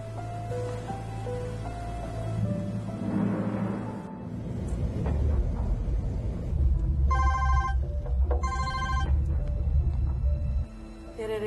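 A telephone rings on an outgoing call, repeated electronic ring bursts coming in short pairs over a steady hum and background murmur, with no clear talk.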